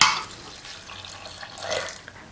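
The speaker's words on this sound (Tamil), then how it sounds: "பீன்ஸ் முழுகிற அளவுக்கு தண்ணி ஊற்றிக்கிட்டா போதும்." Water pours over beans in a pressure cooker, a steady close splashing stream with a brief louder gush near the end, no talking.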